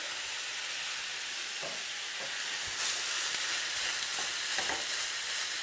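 Kedgeree being stirred in a hot pan after black pepper and parsley are added, a steady soft sizzle with occasional scraping clicks from the spoon, fairly quiet and close.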